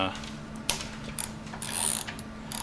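Ratcheting precision torque wrench worked by hand, giving sharp metallic clicks and ratchet rasps at irregular intervals, close up over a quiet background.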